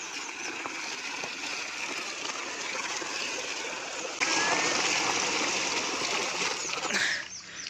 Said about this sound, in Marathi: इकडं पाणी चालू आहे